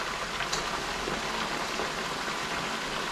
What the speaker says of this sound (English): it is really bubbling